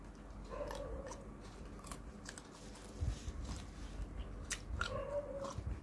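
Someone bites and chews food close to the microphone, with soft crunchy bites and mouth noises spread through the clip over a steady background hiss.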